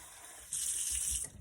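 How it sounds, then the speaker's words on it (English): Tap water runs into a saute pan holding rice, a steady splashing pour that starts abruptly and fills the scene for under a second before cutting off, close and fairly loud. "I'm just going to put a little bit of water in there just so that it doesn't scorch."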